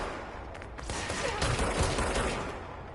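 Gunfire in the video game Control: a rapid, dense burst of shots running together into a continuous rattle for a few seconds.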